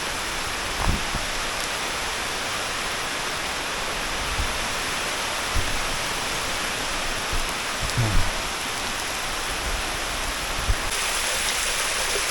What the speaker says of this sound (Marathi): आता जस्ट पाऊस चालू झालाय, म्हणजे आता पाणी वाढेल.